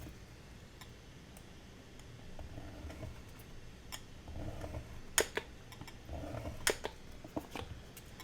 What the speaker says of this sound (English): I'm just going to go down here through here with my scoring tool right up against that chipboard